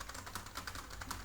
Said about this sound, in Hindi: मैं टाइप करना शुरू करता हूँ